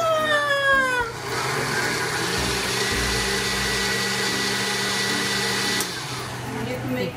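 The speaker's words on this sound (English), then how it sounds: "It's going into the blender." Blender whirring through hot green soup, a loud steady motor hum with a rising whine as it spins up, then running evenly for several seconds before cutting out, with no talk.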